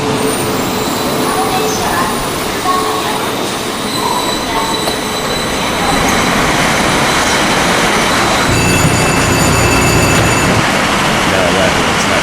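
In the Trainz game, an express train pulls into track 5 at a station with a loud, steady rumble and long metallic wheel squeals, while a voice speaks over it.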